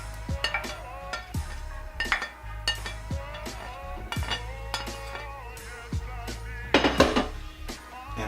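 Chopped meat being scraped and stirred back into a pot of black-eyed peas, with repeated metal clinks and scrapes of a utensil against the pot, close and fairly loud, with no talk.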